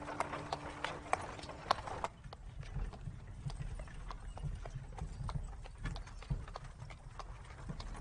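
Horse hooves clip-clop in a steady, close rhythm of sharp knocks that carries on throughout, with a low hum beneath the first couple of seconds.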